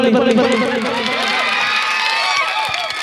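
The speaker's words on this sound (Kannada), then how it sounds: "ದಯವಿಟ್ಟು ಜೋರದಾಗ ಚಪ್ಪಾಳೆ ಬರಲಿ" A large crowd of fans at a dance tribute to Puneeth Rajkumar cheers loudly and continuously, with high shouts and whoops blending into a dense, sustained roar.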